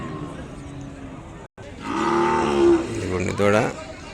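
A calf at a busy cattle market lets out two drawn-out moos, close and fairly loud, the second rising higher at the end, with crowd noise in the background.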